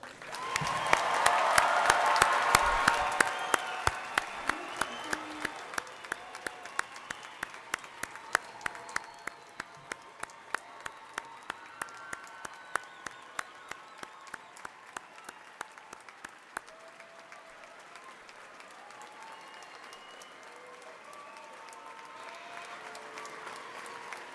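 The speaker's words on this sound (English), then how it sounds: "Please join me in a well-deserved round of applause for our graduates." A graduation ceremony crowd applauds the graduates steadily for over twenty seconds, loud at first with cheering, then thinning to scattered claps and murmurs.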